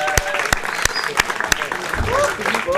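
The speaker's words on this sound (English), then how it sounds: "I think the coordinators deserve a massive round of applause." An audience at a boys' end-of-year event gives a round of applause for the coordinators, a few sharp, loud claps standing out over a light crowd patter, with voices heard alongside.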